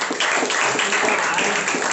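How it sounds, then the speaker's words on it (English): An audience applauds after a presentation at a speakers' forum, a dense, steady patter of many hands clapping close by for about two seconds. "shall we give a round of applause to both"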